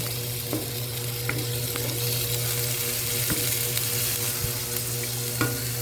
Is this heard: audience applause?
no